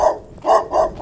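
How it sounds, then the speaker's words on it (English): A dog barks loudly, three sharp close barks in quick succession after an opening bark, heard outdoors with no talking. "That dog is so loud."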